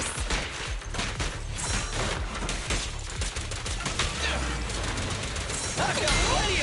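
Rapid gunfire in the action game Zenless Zone Zero, a busy clatter of shots mixed with impact crashes and other combat effects that continues the whole time.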